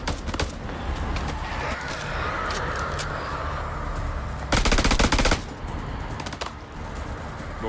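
Automatic gunfire from the video game House of Ashes rattles through a dense game soundscape, peaking in one loud, rapid burst of several seconds, with scattered shots and crow-like caws around it.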